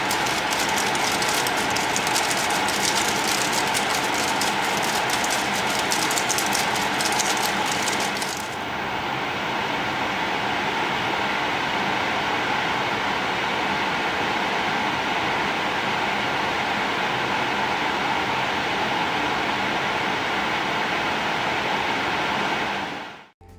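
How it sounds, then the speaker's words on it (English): Jya Fjord air purifier fan running on its highest setting, a loud steady broadband airflow whoosh. The top end of the hiss drops away partway through while the rush carries on evenly to the end. "Here you can see the fan on the highest setting just to give you an idea of the airflow"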